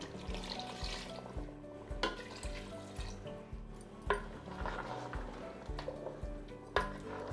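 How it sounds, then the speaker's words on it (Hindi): About three glasses of water poured into a pot of chicken korma on the stove, a steady splashing wash that lasts for several seconds over a rhythmic background beat. "अब हम इसमें पानी डाल देंगे।"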